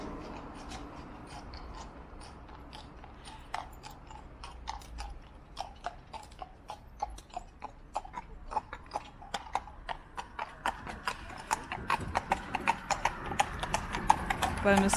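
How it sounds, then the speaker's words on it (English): Hooves of a horse-drawn landau carriage clip-clop on a Blackpool street, steady rhythmic beats growing louder as it approaches through background street noise, with voices talking. "Bonus footage of one of our lovely landaus."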